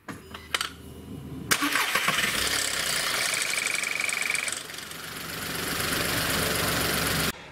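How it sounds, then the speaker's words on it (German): A car engine cranks and catches, with a brief timing chain rattle on start-up that settles into a steady, loud idle for several seconds before cutting off. "ihr startet den Motor und es rasselt einmal ganz kurz"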